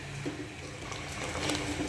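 Heated water poured into a kadhi pan while Sindhi kadhi cooks, a steady close liquid rush lasting throughout and growing slightly louder toward the end.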